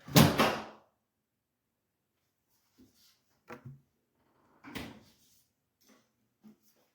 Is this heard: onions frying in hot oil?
no